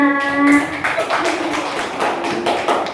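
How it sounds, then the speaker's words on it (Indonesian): Classroom applause for a pupil: a burst of hand clapping from a group of schoolchildren, mixed with voices and a sustained tone at the start, continuing unevenly for a few seconds. "Tepuk tangan buat Nabila Tasya"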